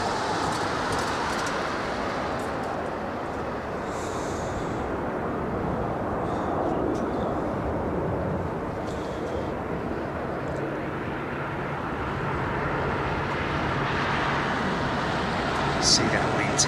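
A Boeing 747 airliner passing overhead on approach at Heathrow, a loud broad roar of jet engines that stays steady throughout while people talk over it.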